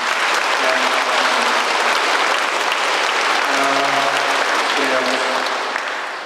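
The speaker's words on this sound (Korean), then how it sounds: "박수 한번 크게 칠까요?" An audience at a festival lecture event applauds loudly and steadily for several seconds, a dense wash of clapping that tapers off slightly at the end, with some voices underneath.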